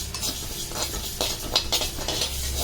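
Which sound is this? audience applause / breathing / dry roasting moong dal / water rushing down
dry roasting moong dal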